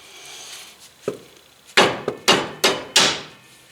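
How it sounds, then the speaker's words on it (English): An old rubber mallet strikes car parts during a Ford ZX2 front strut, exhaust hanger and belt tensioner replacement, one soft knock followed by a run of five firm, evenly spaced whacks, close and loud with no talking. "So I'll usually use an old rubber mallet or something like that."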